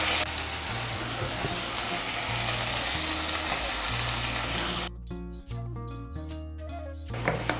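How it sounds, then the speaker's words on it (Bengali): Spice paste mixed with a spoonful of coconut paste sizzles steadily as it is fried and stirred in a pan for a Bengali vegetarian taro curry, the hiss dropping away in the last seconds with a few scraping stirs. "মশলাটাকে ভালো করে কষিয়ে নেব"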